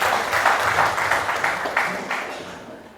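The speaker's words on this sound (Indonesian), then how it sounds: "Beri tepuk tangan Bapak Ibu sekalian." An audience at a school showcase and talk show applauds: a dense burst of clapping at moderate distance that gradually fades over three seconds, with no clear speech.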